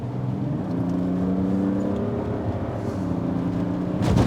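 A 2023 Mazda CX-60 diesel in sport mode accelerates from inside the cabin, its steady engine drone rising in pitch and holding under road rumble.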